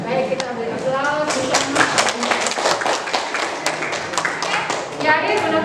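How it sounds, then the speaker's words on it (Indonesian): A classroom of students claps together in steady, dense applause, loud and close, with a voice briefly audible at the start and end. "Baik, kita beri aplaus."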